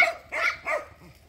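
A dog lets out a few short, sharp barks in quick succession, close and fairly loud, followed by a softer yip.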